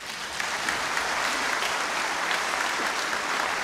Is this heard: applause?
yes